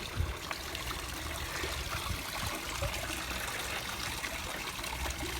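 Water trickles steadily into a garden pond, a faint, continuous gurgling splash with no voices.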